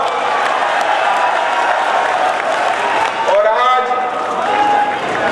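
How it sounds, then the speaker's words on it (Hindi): Large outdoor political rally crowd in Ludhiana applauding and cheering, a loud steady wash of clapping and crowd noise filling the whole stretch, with a voice rising briefly over it. "रवनीत सिंह बिट्टू के लिए जोर से ताली बजाइए जरा"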